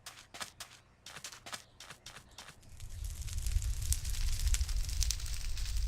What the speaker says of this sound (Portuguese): Aquilo é fogo?